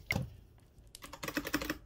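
Keys clack on a computer keyboard in a quick irregular burst, close and clear, with a single tap before a short pause and then rapid typing.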